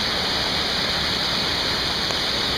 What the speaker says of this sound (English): There's a little waterfall in there, heading downstream into this jungle.